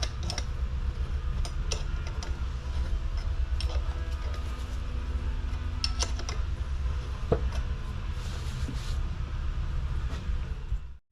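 Wrench turning a thread tap into the brake relay valve of a 1971 MCI MC7 bus, giving steady close mechanical grinding and creaking with scattered sharp metallic clicks, alone without talk.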